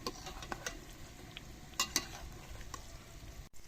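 Aloo palak pakoras frying in hot oil, a faint steady sizzle with occasional light clicks of a utensil moving them in the pan.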